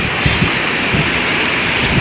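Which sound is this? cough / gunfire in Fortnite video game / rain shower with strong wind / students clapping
rain shower with strong wind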